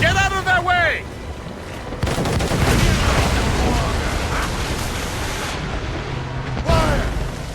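Ship cannon fire in the Assassin's Creed Rogue video game during a naval battle: a loud sustained roar of booming blasts and rumbling noise, with shouted voices at the start and end.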